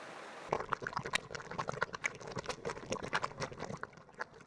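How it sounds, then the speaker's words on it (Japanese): Lively bubbling and popping of adzuki beans simmering in a pot, a dense stream of small irregular blips, close and steady after a brief quiet start. "お鍋で小豆を炊く音"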